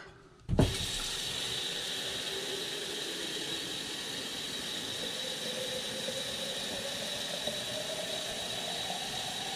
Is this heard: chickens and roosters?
no